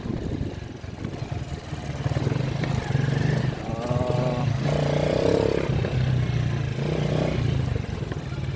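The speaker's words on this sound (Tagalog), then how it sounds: "Sasad-sad yung tricycle natin bro." A small motorized tricycle engine drones steadily, with rattling and clattering from a bumpy ride on a rough road.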